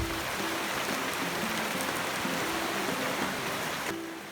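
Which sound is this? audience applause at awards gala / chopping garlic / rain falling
rain falling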